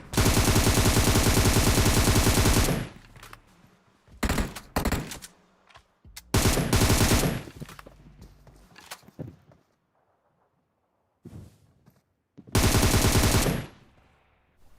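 Automatic gunfire in the PUBG Mobile game: long loud sustained bursts, then shorter volleys separated by gaps of near silence, with a final heavy burst.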